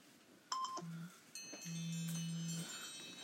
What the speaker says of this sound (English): Put the chimes in.